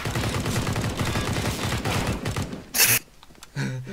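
Rapid automatic gunfire from Counter-Strike: Global Offensive rattles loudly in a dense burst for about two and a half seconds, followed by a couple of sharp, isolated shots near the end.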